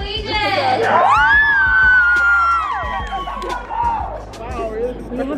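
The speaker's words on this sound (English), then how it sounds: "they want us to scream for our school, and we're gonna be so loud" A group of young people screams and cheers loudly for their school, high shrieks and whoops layered over crowd babble and talk, with a steady low hum beneath.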